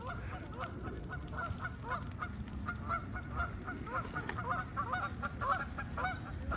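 A flock of geese or ducks honks repeatedly in a busy, overlapping chorus at moderate distance in a park, continuous and fairly faint, with no talk over it.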